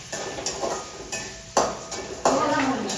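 Onions sautéed in a pan for savoury kozhukattai, a spoon scraping and clanking against the metal pan in repeated strokes over a steady soft sizzle, heard close up with no voices.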